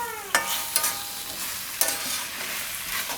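Roti manchurian mixture being stirred in a pan, a few sharp scrapes of a spoon over a steady soft sizzle, close and alone without voices.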